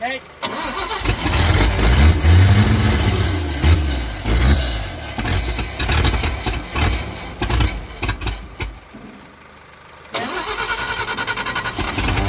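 A 1951 Chevrolet engine cranks and fires up, then settles into a loud, uneven idle with a few throttle blips, close by, briefly dropping before the idle resumes; a person speaks briefly.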